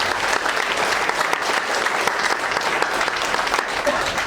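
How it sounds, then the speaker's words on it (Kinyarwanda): An audience at a hospital opening claps steadily and loudly throughout, a dense even wash of applause with no clear break or change in intensity. "mufashe tumukomera amashyi neza"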